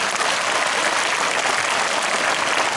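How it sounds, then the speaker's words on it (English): Students at a school farewell function for the principal and manager break into a steady, dense round of clapping that fills the hall from start to finish, with no pauses and no talk over it. "he deserves a big, huge round of applause"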